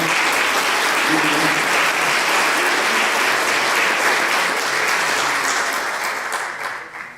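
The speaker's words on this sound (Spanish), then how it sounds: "Un aplauso a todos ustedes" Sustained applause from an audience at a Chiapas forum on earthquake resilience, a dense, steady wash of many hands clapping at close range that swells briefly and then tapers toward the end.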